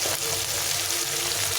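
Chopped tomatoes frying in hot oil for a chickpea dal, giving a steady, close sizzle that runs unbroken through the whole moment, with no talking.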